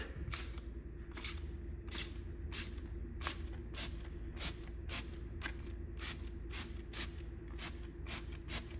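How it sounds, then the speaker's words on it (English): DIY Detail Quick Beads ceramic sealant being sprayed from a trigger bottle in a quick series of short, crisp hissing bursts, about fourteen sprays in steady rhythm, close and fairly loud with no talking. "So we're gonna go ahead and spray on the DIY Detail."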